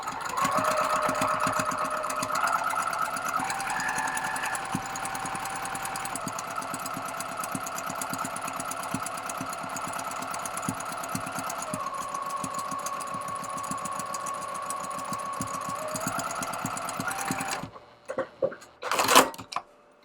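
A sewing machine stitches fabric to batting, its steady mechanical whir and needle chatter running continuously and close for most of the stretch before stopping, followed by a couple of brief clicks.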